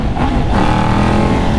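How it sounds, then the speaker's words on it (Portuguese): A loud, close Honda CG Titan motorcycle with a loud aftermarket exhaust roars steadily, its pitch rising slightly as it revs, with no voices. "olha o barulho da moto"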